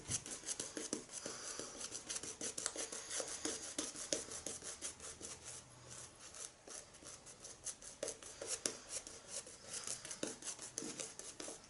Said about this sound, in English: So let's lather up for pass number 2.